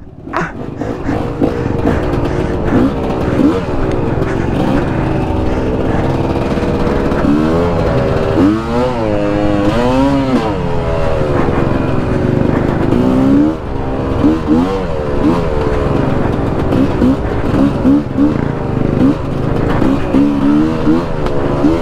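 Two-stroke enduro motorcycle engine revving steadily and loudly up close on a forest trail in Brazil, with repeated rising and falling throttle sweeps over a constant drone.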